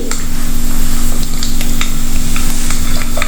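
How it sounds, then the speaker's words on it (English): Ingredients for Kerala shrimp curry fry in a pan with a loud, constant close sizzle, broken by occasional sharp pops and the scrape of stirring. "Just fry this a little"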